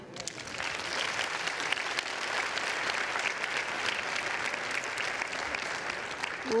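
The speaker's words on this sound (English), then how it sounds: "Let's have a big round of applause for all of the appointees." A large crowd claps steadily and loudly, a dense wash of applause that holds throughout with no talk over it.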